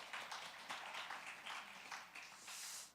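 A church congregation applauds together during a Wednesday prayer meeting, producing a brief, fairly faint wash of clapping that lasts about three seconds with no voices over it.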